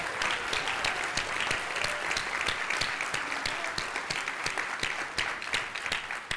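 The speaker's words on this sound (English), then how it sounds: "Could we please give Tricia Rustergaard a round of applause?" An audience at an academic affairs address gives a steady round of applause, many hands clapping densely and evenly for the whole stretch.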